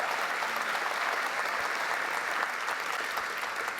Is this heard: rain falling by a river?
no